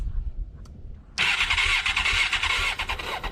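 A superbike engine cranks and catches after a quiet moment, then roars loudly and steadily as the throttle is opened, close up with no talk.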